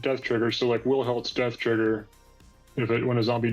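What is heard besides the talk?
No everyday noises stand out.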